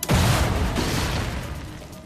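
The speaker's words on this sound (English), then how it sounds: "there was a progressive experimentation using dynamite to find out the extent of damage particular strands of dynamite would cause" A single dynamite blast set off in a damage-comparison test, one loud, sharp boom right at the start that rolls on into a long, dense, slowly fading rumble with no voices.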